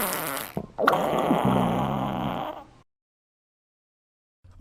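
Cartoon fart sounds from an animated short: a long, loud, wet and strained blast after a brief burst, sustained with a wavering, moaning tone, then cut off to silence before a short final puff.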